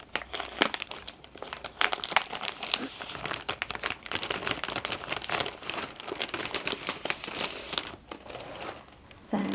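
Paper crinkles and rustles as a calligraphy stationery box is unpacked, dense bursts of close, crisp crackling and crumpling with no speech.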